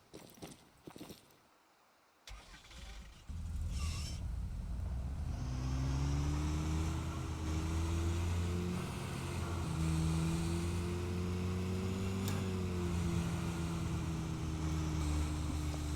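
A yellow car driven in the fishing game Call of the Wild: The Angler gives a steady, loud engine hum with a rising and falling pitch. It runs nearly unbroken after a short quiet start, with no talk.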